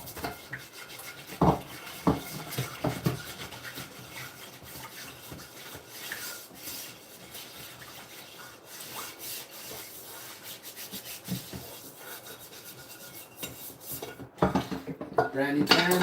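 A pan is scrubbed by hand with steady rasping, rubbing strokes, broken by occasional clinks and knocks of metal, close-up and continuing for a long stretch before louder clatter at the end.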